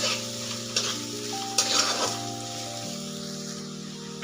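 Chili paste frying in oil is stirred steadily in a pan for sabudana khichdi, a continuous close sizzle with a few scraping strokes of the spoon against the metal.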